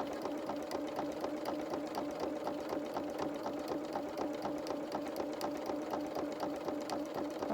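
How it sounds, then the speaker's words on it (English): A sewing machine stitches buttonholes for children's shorts and dungarees on a flat surface with few fabric layers, running at a steady rapid rhythm with regular needle clicks, close and fairly quiet, with no talking. "it's much easier to do these buttonholes on here"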